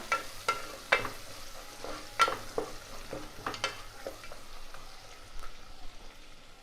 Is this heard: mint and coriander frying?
yes